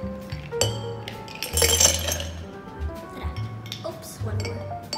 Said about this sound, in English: Get the ice cubes.